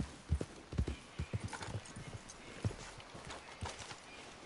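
Hollow hoof clip-clops of a horse in the video game Red Dead Redemption II, in an uneven walking rhythm, fairly close, over a low ambient wash with faint background noise.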